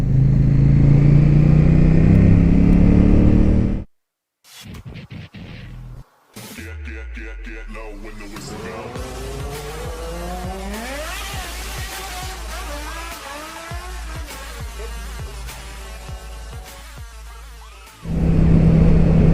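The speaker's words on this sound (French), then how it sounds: "Le seul moyen de faire un petit tour en moto, c'est d'aller bosser avec." A motorcycle rides along a bumpy, winding road in poor condition, its engine note rising and falling with steady wind rush, cut by a brief drop near the start.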